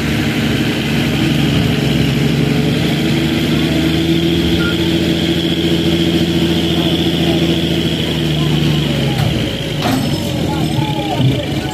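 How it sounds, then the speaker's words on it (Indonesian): Heavy equipment engine, alongside a dump truck, running at night while the truck is being towed; a steady low diesel drone and idle throughout, with talk over it and a brief clatter near the end. "truk ditarik ya."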